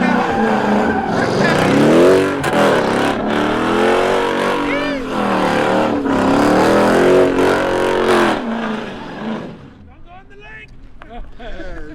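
A car with an open differential spins its wheels and revs hard in a legal pit at a Mopar takeover event, engine screaming up and down with tire squeal, loud and close, then cutting out near the end, with voices in the background.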